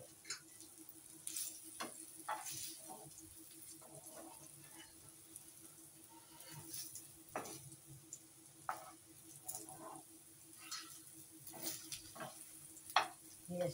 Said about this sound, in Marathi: थोडे परतून घेऊ.